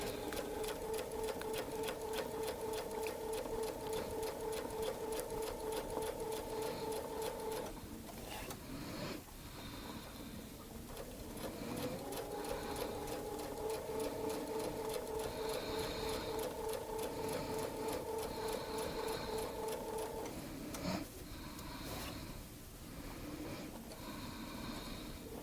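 A sewing machine stitches arcs of a Baptist fan quilt pattern with a steady, fast, even whir of needle strokes. It pauses briefly twice before running on, close and moderately loud, with no voices.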